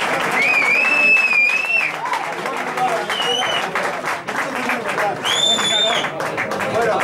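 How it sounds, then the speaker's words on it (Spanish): Applause and cheering from a crowd at a record label's second anniversary birthday party in Barcelona, loud and sustained for several seconds, with whistles and voices mixed in. "Un aplauso para el jefe."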